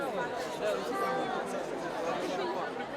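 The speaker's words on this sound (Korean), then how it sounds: "campo 광장에는 아침 일찍부터 이미 수만 명의 관중이 꽉 들어차 있다" A dense crowd of tens of thousands of spectators packs Piazza del Campo in Siena on the morning of the Palio, a continuous murmur of chatter and voices with no pauses.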